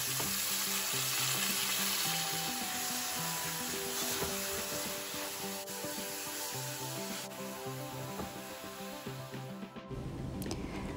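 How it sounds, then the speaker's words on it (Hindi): Chicken frying with golden brown onions in a pan for chicken karahi gives a continuous dense sizzle with faint stirring scrapes, heard close under quiet background music that cuts off near the end. "अब हम इसमें चिकन शामिल कर देंगे और इसको इतना भूनेंगे कि इसका कलर चेंज हो जाए"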